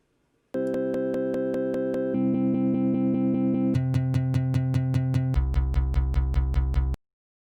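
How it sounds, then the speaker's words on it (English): A guitar sample in ChucK played back at half speed with glitchy looping, lowered and smeared, stuttering in rapid even repeats across four descending pitched segments before stopping sharply into silence. "You can combine that with the glitch idea I mentioned before,"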